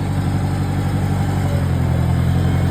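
A Farmall 140 tractor engine runs steadily at a constant loud drone, close up, while the tractor is driven around, with no talk.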